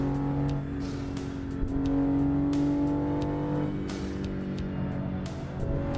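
Cars speeding past on a road in American Truck Simulator, engines rising and fading one after another at moderate distance, with steady engine hum underneath.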